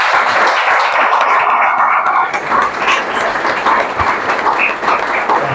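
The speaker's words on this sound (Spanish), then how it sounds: "Quiero que les demos un aplauso, están allí." An audience at a book presentation applauds guests, continuous clapping from a room full of people, loud and near, holding steady throughout with no voices on top.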